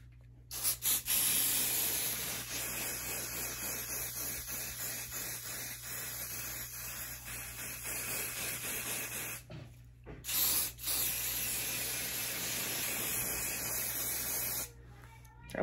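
Hair spray hisses from a can in several long, close bursts with short pauses between, done while styling a half-up, half-down hairstyle.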